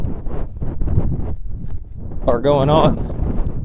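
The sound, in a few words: horse hooves clip-clopping while travelling at a lope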